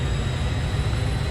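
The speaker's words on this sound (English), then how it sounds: "APU starting up here" The APU of an Airbus A320 in Microsoft Flight Simulator 2020 starts up with a steady, loud low whirring rumble and a faint high whine above it, with no voices.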